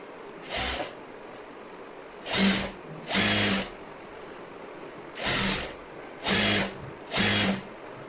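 Sewing machine stitching a blouse sleeve onto the garment in short separate bursts, about six runs of steady whirring stitching with brief pauses between them, close and fairly loud with no talking.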